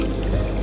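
A little water poured into chapati dough in a home kitchen, a short soft splashing trickle heard alone and up close.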